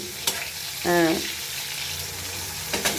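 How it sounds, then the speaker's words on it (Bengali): Fish sizzles and crackles in a hot pan, with a short tonal clatter of a utensil in the middle and light scraping sounds. "আমি রান্না করছি, মাছ ভাজা করছি।"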